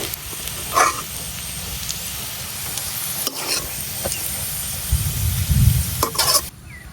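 Close, loud, continuous sizzling as onions fry in the oil used for frying grass carp, with scattered scrapes and taps from stirring before the sound drops away at the end.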